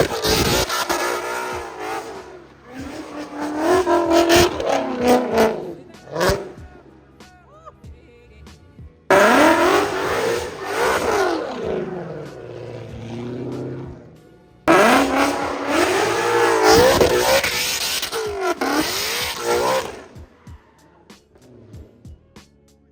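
A Ford Mustang engine revs hard in three long loud bursts, roaring and climbing in pitch with raspy exhaust crackle, close by and dominating.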